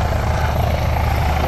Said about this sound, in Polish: Sam tu widzę możliwość przelotów helikopterem.